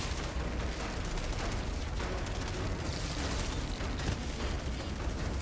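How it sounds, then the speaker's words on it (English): Explosions and dense gunfire in the looter-shooter video game Outriders, a loud, continuous wash of combat noise with a sharper blast near the end. "Oh, nice explosion."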